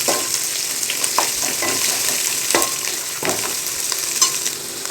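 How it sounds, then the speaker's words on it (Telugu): Spices and turmeric fry in hot oil for a chicken curry, a close, continuous sizzle broken by repeated scraping stirs of a spoon against the pan. "మంచిగా ఫ్రై అవ్వాలి."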